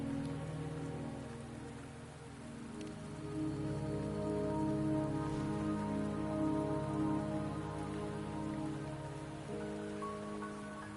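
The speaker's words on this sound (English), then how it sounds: "Don't worry, the rain won't last much longer." Steady rain falls in the Wuthering Waves video game, a continuous even patter and hiss of drops on surfaces with no talk, holding at a moderate level throughout.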